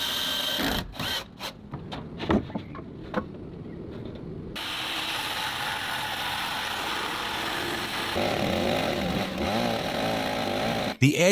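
A chainsaw cuts and levels the wooden edge beams of a handbuilt log house roof. Choppy bites and short bursts come first, then a steady, loud buzzing cut that runs on and ends with a sharp stop.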